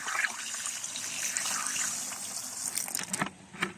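Water poured into a container to dissolve fertilizer in a vegetable garden of bottle gourd and okra, a steady trickling stream that turns into louder splashy gushes near the end.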